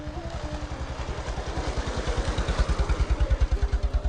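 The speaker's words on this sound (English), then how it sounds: "here's a couple people on motorbikes driving by" Motorbikes passing on a street in a small town in northern Myanmar, a close, rapid putter of engine firing pulses that grows louder and steadier over a few seconds.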